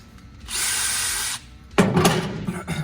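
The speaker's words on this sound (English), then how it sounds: "We're gonna have to drill these out" A power drill whirs steadily for about a second, stops, then bites into metal with a rougher, louder grinding burst while drilling out holes during an LS swap on an S10 truck.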